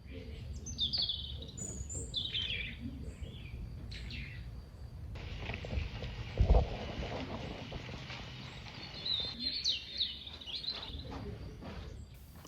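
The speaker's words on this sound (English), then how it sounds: "Is that a new bird call? It's bright and unfamiliar." Bright, unfamiliar bird calls in a homestead garden, a few short chirping phrases repeating at moderate distance over a soft outdoor background, with a brief thump partway through.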